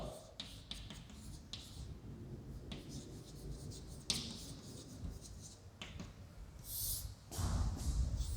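Pen or chalk strokes writing out a physics equation for the magnetic field of a current loop, soft intermittent scratches and taps with quiet room noise between them, growing louder near the end.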